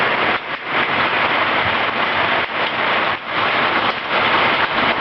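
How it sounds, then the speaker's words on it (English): Loud, dense pelting of pea-sized hail and heavy rain in a storm in Mapleton, Iowa, a constant close hiss with brief dips, no talking. "Is this hail?"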